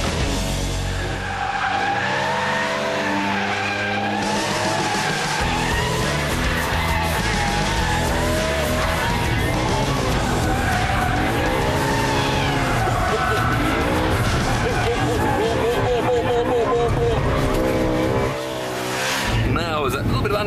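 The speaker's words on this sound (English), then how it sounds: "Now there's a little bit of understeer pushing into the corner." A new BMW M3 with every handling setting at extreme corners hard with slight understeer, its engine roaring continuously and tires squealing loudly as someone narrates over the driving.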